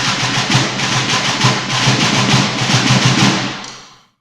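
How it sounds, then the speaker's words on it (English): Snare drum ratamacue rudiment played as a continuous, dense roll of quick strokes with regular accented pulses, loud and close, ringing out briefly at the end with no voices. "The ratamacue, or ratamacue, sounds like this."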